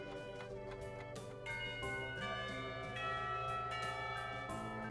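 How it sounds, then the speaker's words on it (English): A school bell in a visual novel game rings with sustained tonal chimes layered over background music, the tones shifting and swelling steadily over several seconds. "When the bell rings"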